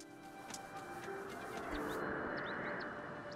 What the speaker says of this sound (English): I'm gonna try and catch some birds here.